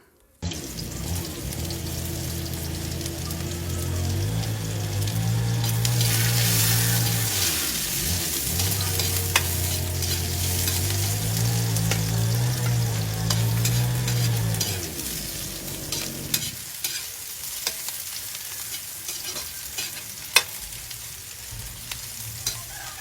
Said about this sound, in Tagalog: saka ko ginisa ang bawang sibuyas at saka tinapa